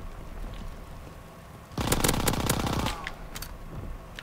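A Thompson submachine gun in a WWII multiplayer video game fires one rapid automatic burst of about a second, loud and close, over a background of low game ambience with a few faint clicks afterward.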